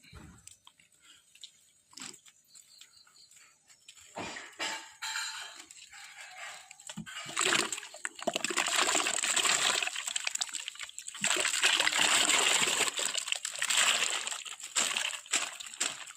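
Tapioca chunks drop and splash into a pot of water, starting with scattered plops and building into dense, continuous sloshing and clattering splashes.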